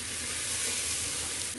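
Soaked rice and chana dal being gently stirred in a pressure cooker, a steady soft scraping and rustle with a faint sizzle underneath, continuous and close with no talk.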